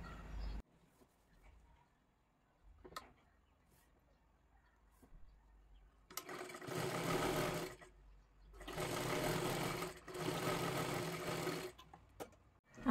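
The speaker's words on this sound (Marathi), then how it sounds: "इथे एक पूर्ण व्यवस्थित आपल्याला शिलाई करून घ्यायची आहे." A sewing machine stitches the lining cloth of a garment sleeve in two long, steady whirring runs after a quiet start, loud and close.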